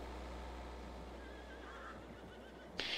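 A horse whinnies in a farming video game, faint and distant under a steady ambient noise bed, followed by a short bright burst near the end.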